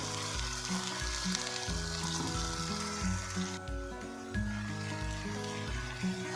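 A steady sizzle of garlic ginger paste frying in a hot pan, with soft background music playing over it.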